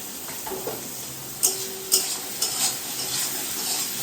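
Onions and chillies being lightly fried in a pan for a quick pasta: a steady soft sizzle runs throughout, broken by a few sharp clinks of a utensil stirring against the pan, close and moderately loud.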